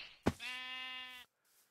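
A single sheep bleat from the Minecraft mod Dragon Block C, preceded by a short knock, a clear nasal wavering call lasting close to a second and then cutting off abruptly.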